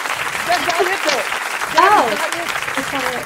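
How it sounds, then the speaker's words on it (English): A small audience at a magic show claps for a performer while excited voices talk and exclaim loudly over the applause, the clapping fairly close but partly buried under speech. "Give her a round of applause"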